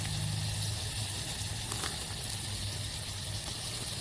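Chili flakes and onion masala sizzle in a pan while cooking outdoors on a farm, a continuous close hiss over a low humming background, with no voices.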